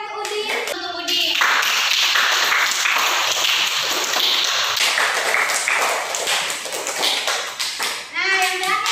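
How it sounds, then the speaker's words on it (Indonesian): Classroom applause for a student named Udin: a burst of many hands clapping fills most of the stretch, loud and dense, with children's voices and a teacher speaking at the start and end. "Berikan tepuk tangan untuk Udin."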